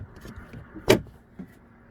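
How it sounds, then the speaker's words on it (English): The rear interior door handle of a 2010–2019 Ford Taurus with the door panel removed, pulled once for a single sharp mechanical clack of the cable latch, close up, with faint softer clicks around it. "So when you pull a door handle, you'll see like it's pulling on the cable."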